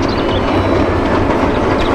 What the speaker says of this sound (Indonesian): Wow, kereta Thomas.